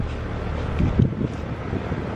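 Outdoors while drip irrigation poly pipe is being laid, wind buffets the microphone in a low, steady rumbling roar with a couple of stronger gusty thumps near the middle.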